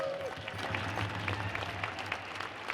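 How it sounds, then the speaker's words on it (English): A fairly faint spatter of audience applause, scattered hand claps in a room with a low background hum, steady for a few seconds. "could you please give Sean Turman a very nice round of applause."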